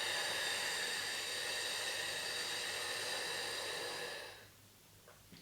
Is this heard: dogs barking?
no